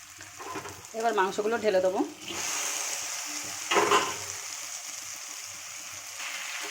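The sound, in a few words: chicken pieces poured into spices, frying and sizzling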